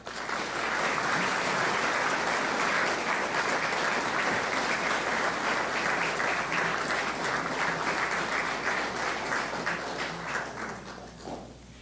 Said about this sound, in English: And I think technically we never gave him a formal round of applause.